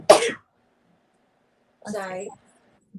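One short, sharp sneeze bursts out close by. It is followed by a pause and then a person briefly speaking.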